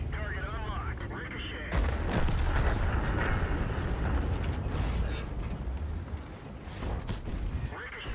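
Tank gun firing in a video game with American medium tanks, a loud heavy boom followed by rumbling, creaking mechanical noise and further blasts, with a voice talking over it.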